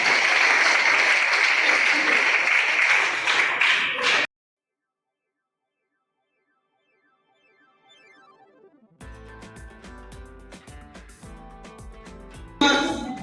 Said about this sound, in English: Big round of applause for Shifa Mahin.